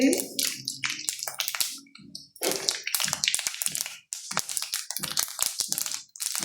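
Mustard seeds and fenugreek crackle and pop in hot oil, a dense run of sharp, close crackles with short pauses.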